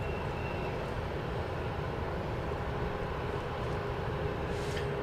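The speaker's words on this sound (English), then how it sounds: "our next arrival consists of a Embraer Phenom" An Embraer Phenom 300E business jet arriving on runway 13 right at Dallas Love Field, a faint, steady distant engine rumble and hiss holding evenly throughout.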